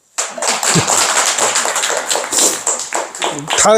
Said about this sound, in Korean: 우리 서기 스님한테 박수 한번 쳐요